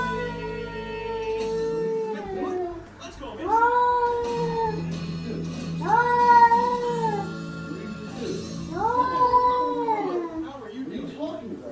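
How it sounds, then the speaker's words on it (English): Cats yowl and caterwaul in long, rising, drawn-out cries during an attack, several loud wails in succession with a TV playing in the background. "Cats are still attacking."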